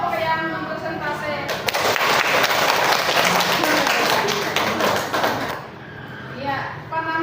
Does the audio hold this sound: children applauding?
yes